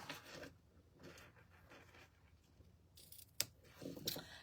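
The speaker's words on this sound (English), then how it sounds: "We'll take our scissors and we'll just trim these ends a little bit" Scissors snip the ends of soft ribbon, a few crisp close cuts separated by pauses, with one sharp click and light rustling, faint overall.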